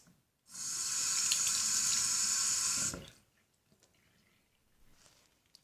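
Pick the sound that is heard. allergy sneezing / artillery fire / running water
running water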